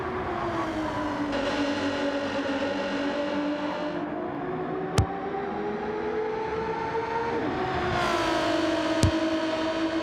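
Race car engines in Gran Turismo 7 during a DTM round, including an Alfa 155, whine steadily at high revs with pitch rising and falling through gear changes, a couple of sharp clicks standing out over the continuous drone.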